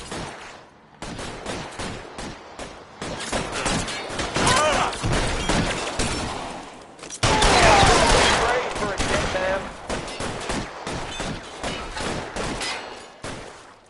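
Rapid gunfire from a shootout in the video game L.A. Noire, with dense bursts of shots and impacts crackling nonstop, loudest in a heavy volley midway, and voices mixed in.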